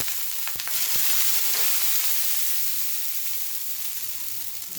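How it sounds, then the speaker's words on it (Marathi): Water hitting a very hot iron tawa on a full gas flame bursts into a loud, continuous hissing sizzle that holds steady close by for several seconds. "थोडंसं आता यावर पाणी घालायचं आहे"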